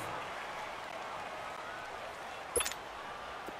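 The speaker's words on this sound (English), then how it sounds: "The crowd getting into it as we come up on a big third down." Football stadium crowd in New Orleans keeps up a steady, broad roar of cheering with scattered clapping, rising briefly in a short burst of louder noise near the end.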